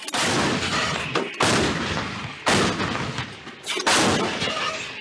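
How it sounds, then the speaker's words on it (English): Military artillery fires during a coalition bombardment of Islamic State positions, four heavy booming blasts about a second apart, each with a long rumbling tail, close and loud. "Fifth shot. Fire!"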